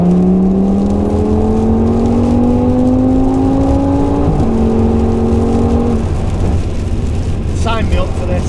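A modified 900bhp Audi RS6 accelerates hard in the rain, its engine note climbing steadily through the gears with a brief shift break, loud and close inside the car, then easing off as a person talks.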